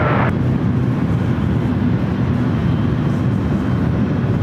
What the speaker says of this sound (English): Japan Airlines in the One World livery heading back to Tokyo Narita, lined up on runway 1 right.